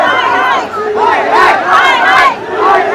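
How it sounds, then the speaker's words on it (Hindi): A large crowd of Gen-Z protesters at Jantar Mantar in Delhi raises loud chanting and shouted cries, many voices rising and falling together in waves close by. "बहुत ज़्यादा भीड़ है।"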